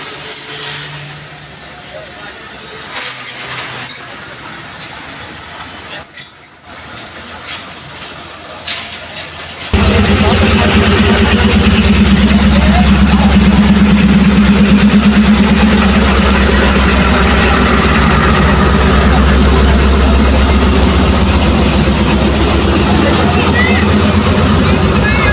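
The Shalimar Express passenger train rolls backwards at a railway crossing in Multan, a loud continuous rumbling roar starting abruptly after a stretch of quieter background sound and people talking.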